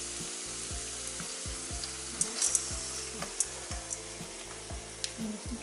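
Rice tipped into a hot pot for nasi mandhi with lamb ribs, frying with a steady close sizzle while a utensil scrapes and stirs in a repeating rhythm, no voices.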